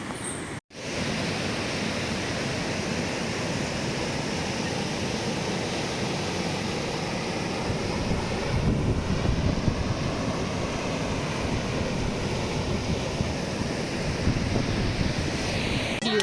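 A river swollen bank to bank after heavy rain rushes past in a steady, loud broadband roar with wind buffeting the microphone, continuous from start to finish after a brief dropout near the beginning.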